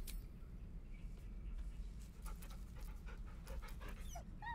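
A dog pants in quick, rhythmic breaths in Baldur's Gate 3, close and clear over soft game ambience, with a few short whimpers near the end.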